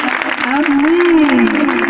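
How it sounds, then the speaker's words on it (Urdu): A church congregation claps loudly and continuously, dense applause filling the space while a voice speaks or calls out over it the whole time. "خداوند یسوع کے جلال کے لیے زوردار تالی بجا دیجیے گا۔"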